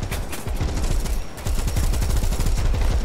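Tank machine guns in the War Thunder video game fire a fast, continuous stream of close, loud shots, each burst running several seconds with a dense rattling rhythm and no talking.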